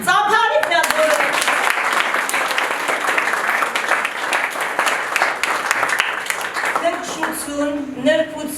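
Warm applause from a crowd at a last-bell school graduation ceremony at Yerevan high school No. 112 in 2025, steady and loud for several seconds, with a voice speaking briefly over the clapping at the start and end.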